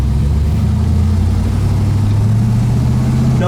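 1970 Camaro RS V8 idling smoothly at low revs, a loud steady close-up engine drone with a deep throbbing beat that holds for several seconds.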